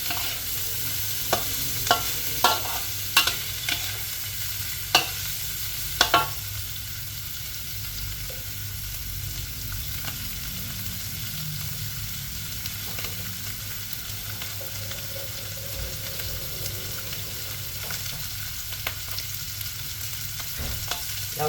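Pork ribs stir-fry with pepper, garlic and coriander root in a pan, giving a continuous close sizzle with several spatula clacks early on, then a long steady frying hiss with occasional light taps and no talking.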